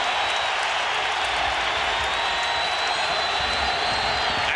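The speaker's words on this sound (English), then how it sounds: "The crowd in this one." Arena crowd at a 2001 NBA Eastern Conference Finals basketball game in Milwaukee, a loud, dense and continuous roar of cheering that holds steady throughout, with a faint whistle-like tone running through it.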